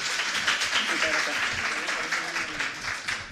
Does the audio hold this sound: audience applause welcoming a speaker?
yes